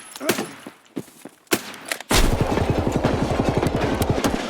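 Rapid bursts of gunfire in an Escape from Tarkov firefight, a few sharp single shots followed by a sustained, loud automatic volley rattling close by with no talk over it.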